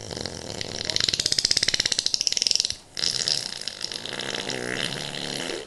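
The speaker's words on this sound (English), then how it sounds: "as she did so, she farted." Loud, drawn-out rattling fart sound effect in a Slitheen audio drama, a rapid series of buzzing pulses that cuts off sharply, followed by a second rougher burst.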